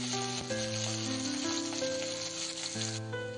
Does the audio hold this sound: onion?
yes